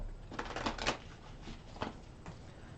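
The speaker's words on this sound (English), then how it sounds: "I'm going to shuffle them a few more times." Tarot cards shuffled by hand in soft riffling bursts, a few quick flutters close by with brief pauses between them, quiet and without talk.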